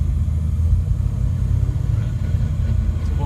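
A 1967 Chevrolet Chevelle's engine runs with a steady, loud low rumble close by, idling smoothly and unbroken with no talk.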